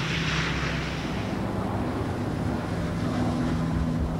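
A military transport aircraft over a Vietnam War combat zone gives off a steady, moderately loud broadband engine roar with low droning hum, continuous and unchanging throughout with no voices.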